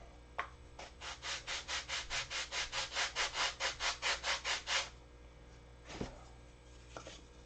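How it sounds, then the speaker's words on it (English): Wooden canopy pieces are sanded by hand in quick, even back-and-forth strokes, about fifteen rhythmic rasps close up, followed by a few scattered knocks and scrapes. "If I sand them at the same time, they'll both be the same angle one way or the other."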